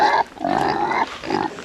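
Pigs on a homestead grunt in a steady run of snuffling calls close by, rooting under a big walnut tree for last year's fallen nuts.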